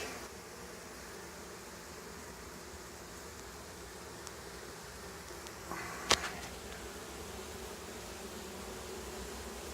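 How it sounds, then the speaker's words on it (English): Bees swarm around a wild beehive on Panama City Beach, a faint steady buzzing hum with soft rustling and one brief sharp knock near the end. "a heap of bees in there."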